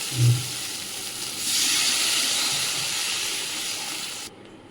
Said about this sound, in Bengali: এবার আমি এর মধ্যে দিয়ে দেব পরিমাণ মতো জল।